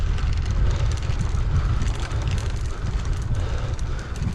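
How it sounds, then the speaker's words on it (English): Steady, loud wind buffeting a cyclist on a rural road in windy, showery Ceredigion countryside, a continuous low roar with no breaks. "more of a favourable wind, I think"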